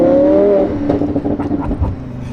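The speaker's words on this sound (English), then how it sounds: "This sound is insane. The V10, the naturally aspirated V10, is just like an orchestra" A high-revving naturally aspirated V10 engine screams close by, its pitch climbing steadily before breaking into a series of sharp, throaty bursts.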